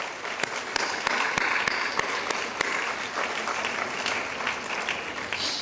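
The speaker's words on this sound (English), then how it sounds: "So, ladies and gentlemen, let's give a big, big round of applause to our Guru, Srimati Bina Menon." An audience claps for the guru at an Arangetram classical dance performance, steady dense applause across the whole stretch with a few sharper individual claps standing out near the front.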